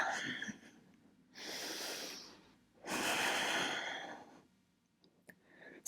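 Two long, deep, audible breaths taken during a yoga pose, slow whooshing inhales and exhales close to the microphone with a quiet pause between them.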